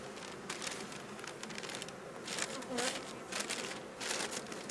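Honeybees buzz around an opened hive, a close, steady drone broken by repeated crinkly bursts as frames or material are handled nearby.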